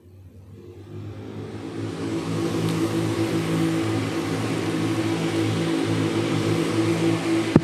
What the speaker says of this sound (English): Cars are now flying through the chicane of turn 10 and 11.